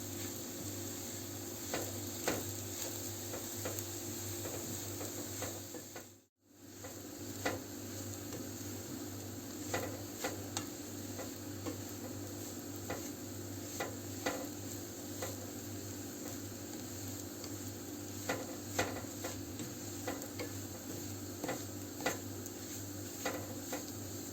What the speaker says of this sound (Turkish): irmiğimizi bu şekilde sürekli karıştırıyorum. Pembeleşene kadar iyice kavuracağım